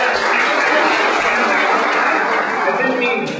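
Audience applause fills the whole stretch, a dense steady wash of clapping from a crowd at a college event, loud and sustained with faint chatter mixed in.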